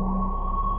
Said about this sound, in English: I'm sending the bass voice through Debriatus, the wave destruction module from Volt